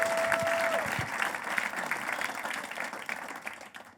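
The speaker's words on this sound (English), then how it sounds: "give the Comedy Fort a round of applause, you guys" Comedy club audience breaks into applause, dense clapping with a few whoops at the start that gradually thins and fades over four seconds.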